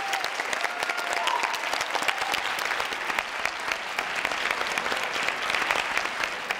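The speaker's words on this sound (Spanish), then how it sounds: "Así que pido, por favor, un súper aplauso." Concert audience in La Palma, Canary Islands, breaking into sustained, dense applause that fills the whole stretch at a steady level, with a few faint whistles or voices rising briefly above the clapping.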